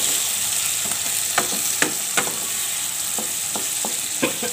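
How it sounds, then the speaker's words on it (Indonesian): Sambal goreng for baby squid sizzles in a pan as the chili paste is stir-fried until wilted, a constant fry with sharp scraping clinks of a spatula scattered over it. "Nah, kita gongso dulu hingga layu, hingga matang ya."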